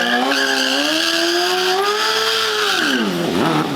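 A BMW stunt motorcycle spins its rear tire at a show, giving a loud, continuous squealing howl whose pitch rises and holds, then dips sharply near the end.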